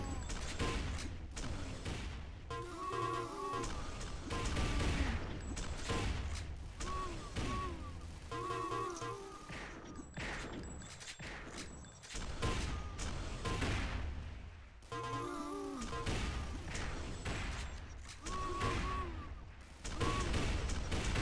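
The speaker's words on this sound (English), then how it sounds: "Bad MG from Cannibal." Rifle shots and machine-gun bursts ring out in a competitive shooter match, rapid repeated cracks and rattles throughout, with game sound effects and faint commentary voices underneath.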